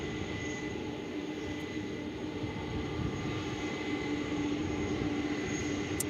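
A UPS MD-11 aircraft at DFW airport sends a steady, broad jet-engine roar across the whole span, holding an even, fairly distant level throughout with no voices.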